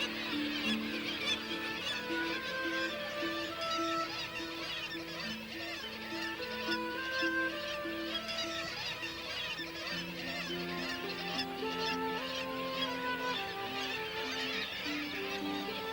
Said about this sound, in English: This noisy kittiwake colony is near the face of Marjorie Glacier.